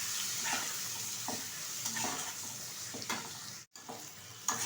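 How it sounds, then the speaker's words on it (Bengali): Chopped onion, tomato and turmeric powder fry for chicken curry, giving a steady sizzle broken by several scraping stirs of a spatula in the pan, with a short silent gap near the end. "দিয়ে দিচ্ছি কুচিয়ে রাখা পেঁয়াজ আর একটা টমেটো। ভালোভাবে ভেজে নেব।"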